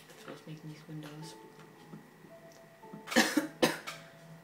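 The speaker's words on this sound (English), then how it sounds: "Sorry guys, just got a cough." A person coughs twice in quick succession near the end, sharp and close, after quieter Minecraft game sounds with faint tonal beeps.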